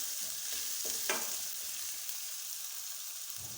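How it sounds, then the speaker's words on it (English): Onions and garlic fry in a pot with a steady, bright sizzle. A few quick scrapes of stirring cut through near the start, and no one speaks. "add garlic, cook the onions and garlic until you see the color change"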